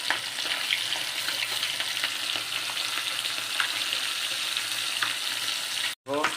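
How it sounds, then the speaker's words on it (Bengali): Turmeric-and-salt-coated fish pieces fry in hot oil in a pan, a steady close sizzle with faint crackles throughout and a brief break near the end. "এক পাশ ভাজা হয়ে গেছে, মাছ উল্টে দিয়েছি, আর এক পাশ ভাজা হচ্ছে"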